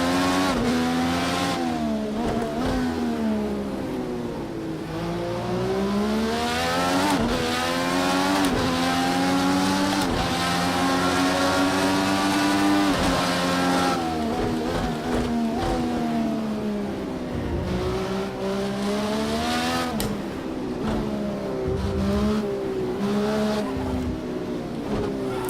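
A race car in Project Cars 2 roars through repeated gear changes, the engine note climbing and dropping again and again, with tire squeal and skids, loud and continuous throughout.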